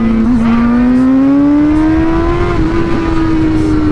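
A Honda CBR600RR sport motorcycle's engine holds high revs during a wheelie, a loud, close, steady whine that climbs gradually in pitch, with wind noise and no talk.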